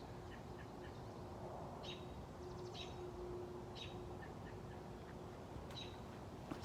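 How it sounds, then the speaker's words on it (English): Wild birds at a bird sanctuary on the old Expo 67 grounds in Montreal give short, repeated quacking and chirping calls, faint and somewhat distant over a steady outdoor hum, with no talking. "This place also does operate as a bird sanctuary, as you can probably hear throughout."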